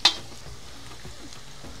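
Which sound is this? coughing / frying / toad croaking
frying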